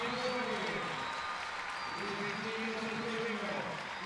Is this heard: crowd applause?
yes